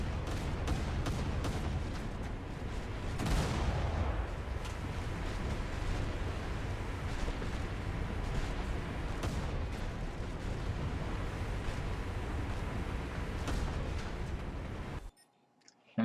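Destroyer naval guns fire in the War Thunder naval battle game, a dense, continuous barrage of loud booming shots and rumbling blasts that keeps going almost without pause until it cuts off abruptly near the end.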